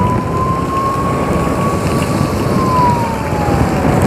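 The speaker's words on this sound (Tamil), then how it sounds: "ஆம்புலன்ஸ் வருது, வழி விட்டுருவோம்." An ambulance siren wails steadily on a rainy Chennai road during a flood-time motorbike ride, its tone slowly sliding as it passes, heard over heavy rain hiss, wind buffeting and engine rumble.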